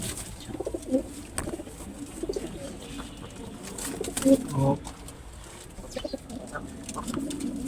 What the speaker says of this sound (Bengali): এই যে একটা কবুতর এখানে